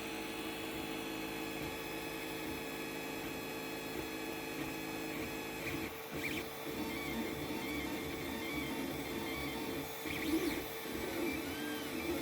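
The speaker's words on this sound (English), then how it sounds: "Right, it's finished printing" A 3D printer printing a PETG part hums and whirs continuously, its stepper motors producing shifting tonal whines and buzzes over a steady mechanical drone, fairly quiet and unbroken.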